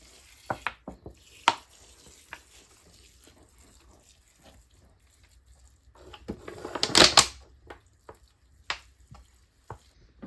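Water is poured onto bare root strawberry plants in a short splashing burst partway through, among scattered quiet clicks and knocks close by.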